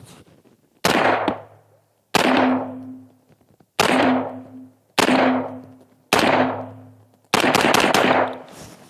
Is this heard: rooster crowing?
no